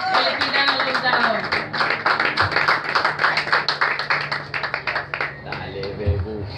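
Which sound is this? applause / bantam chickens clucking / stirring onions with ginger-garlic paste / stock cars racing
applause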